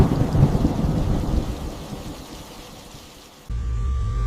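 Rolling thunder rumbles loudly over steady rain, fading gradually before a heavy downpour abruptly swells again near the end; no voices.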